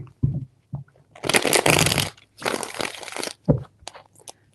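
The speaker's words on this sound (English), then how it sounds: "3 shuffles." Tarot cards being shuffled up close in several bursts: a few short riffles and taps, then two longer crisp rustling shuffles about a second each, separated by brief quiet pauses.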